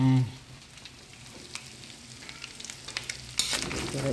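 Pork and chicken adobo pieces browning in a hot pan, a steady crackling sizzle with occasional stirring scrapes and a louder clatter near the end.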